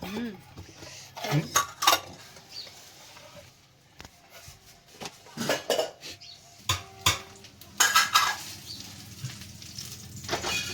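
Pav bread toasting in oil in a pan for pav bhaji, with scattered clinks and scrapes of a metal utensil against the pan over a soft sizzle, interrupted by brief louder clatters.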